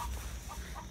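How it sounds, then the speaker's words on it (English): A chicken clucks in short repeated bursts while laying an egg, set against a steady low rumble from a nearby off-road Jeep or mobility vehicle outdoors. "Chicken's laying an egg"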